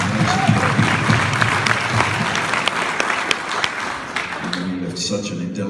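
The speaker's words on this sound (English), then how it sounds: "Let's thank that guy with a little round of applause." A convention panel audience at Armageddon Auckland breaks into loud, dense applause and crowd noise, thinning out near the end as a voice resumes.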